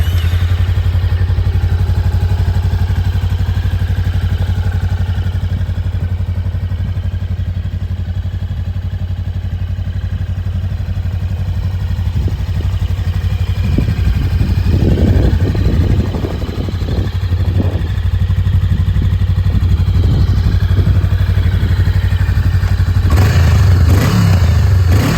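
A 2023 Honda Rebel 500 SE ABS motorcycle engine idles with a steady, low, loud rumble, a few mechanical clatters and blips rising over it midway.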